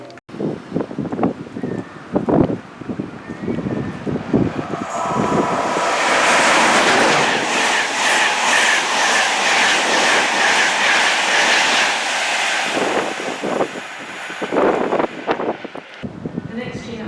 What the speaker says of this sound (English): we're going to film some more trains passing through